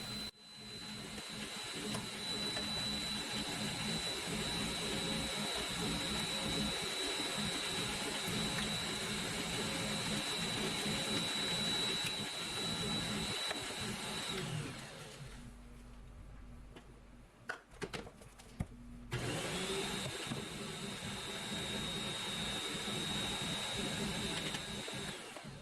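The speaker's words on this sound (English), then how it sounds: "mix that up really well before we start adding in our spices, baking powder, and so forth" An electric mixer beats pumpkin roll batter in a bowl, a steady continuous whine that drops out briefly near the end and then resumes.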